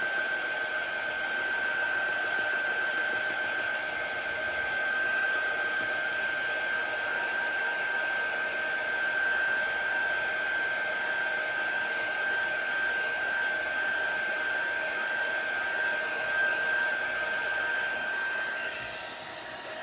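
A hair dryer runs continuously for almost twenty seconds, drying chalk paste on a craft stencil. The whir is loud, close and steady, with a high tonal whine on top, and it cuts off near the end.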